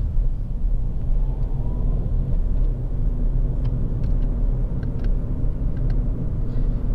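Ford Fiesta 1.4 Titanium three-door on a road test, steady low rumble of engine and road noise from inside the car, continuous and moderately loud with a few faint ticks.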